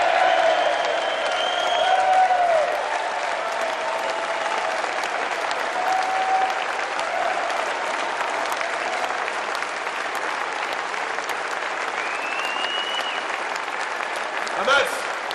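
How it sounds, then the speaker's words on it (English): A crowd at a Brexit Party campaign event applauds steadily and loudly for the whole stretch, with faint whistles and a few voices over the clapping. "That's worth a round of applause."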